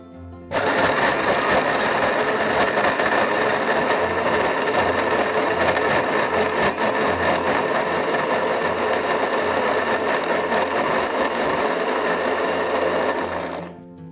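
Electric blender grinding spice paste with a small splash of water, a steady loud whirring motor drone running continuously for about thirteen seconds before cutting off.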